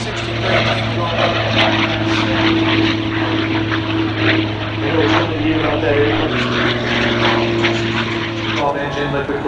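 P-63 KingCobra fighter with a liquid-cooled engine and propeller flying past at the Wings Over Houston air show, a loud sustained engine drone that shifts in pitch as it passes, with an announcer talking over it.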